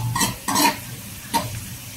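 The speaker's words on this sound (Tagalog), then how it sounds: "Lutuin natin maigi yung sibuyas kasi na lutong-luto yung bawang tapos yung sibuyas hindi." Onion and garlic sauté in a hot pan, giving a few loud bursts of sizzle and stirring scrapes separated by a steady low frying hiss, close up with no talking.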